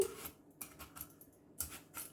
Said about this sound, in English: next we're going to peel the apples.